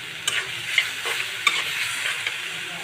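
Potatoes are stir-fried with peas in a spiced vegetable mix, giving a soft, even sizzle with a few sharp scrapes and clinks of the spatula against the pan, close and without speech.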